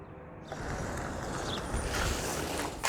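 City bus arriving at a stop, a rising low engine rumble with broadband road and air noise building over a few seconds, heard close by outdoors with a brief hiss near the end.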